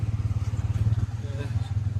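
A newly delivered motorbike's engine runs at a steady low, throbbing idle close by, with people talking over it throughout.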